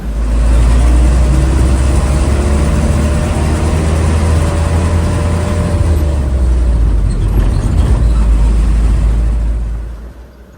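Engine of a single-axle Ragil Putra intercity bus running on the Prembun to Wonosobo route, heard from inside as a loud, steady low drone with road rumble that continues without pause, then fades out at the end.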